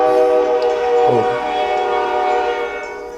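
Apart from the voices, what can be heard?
train passing with horn, tracks behind dorms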